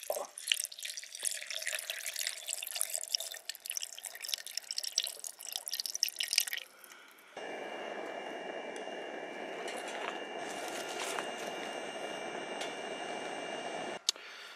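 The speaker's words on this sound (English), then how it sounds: "Let's get the water in." Water poured into a cooking pot outdoors, first splashing and trickling unevenly, then settling into a steady close rushing stream that stops abruptly with a final small splash.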